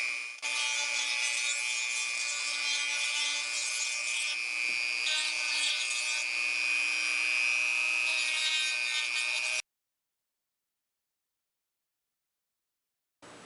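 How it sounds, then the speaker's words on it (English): A Dremel rotary tool grinds away plastic around a fursuit eye opening, a steady high whine with rasping texture that holds for about nine seconds before cutting off into silence. "I'm going to be using the grinding tool to grind away some more of"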